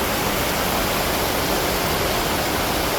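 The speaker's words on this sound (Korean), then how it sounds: "이곳에서 시원한 물소리 들으면서 잠시 쉬었다 갑니다." Water flowing at Segeomjeong pavilion on Hongjecheon stream in Seoul, a loud, dense, steady rush like a small waterfall filling the whole scene without a break, with no voices.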